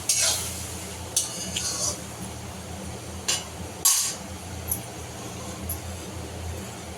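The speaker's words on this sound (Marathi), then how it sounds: "छान ढवळून आपलं जे तूप आहे ते सुटलं पाहिजे असं साईडने" Dudhi halwa being stirred in ghee in a metal pan, with scraping and clinking strokes at irregular intervals over a steady sizzle, close by, with a voice talking at times.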